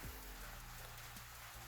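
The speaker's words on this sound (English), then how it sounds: "Sorry about the rain. I'm sure the microphone's picking that up." Steady rain falling outside during a desk resurfacing job, a continuous close hiss of drops on surfaces that holds level throughout with no talking.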